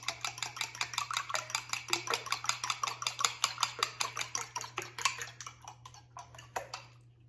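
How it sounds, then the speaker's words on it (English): Four eggs are whisked in a bowl for an Italian Easter pie, giving a fast, steady run of close clicking strokes that slow and thin out near the end. "I've got 4 eggs, and I'm just gonna whisk those together."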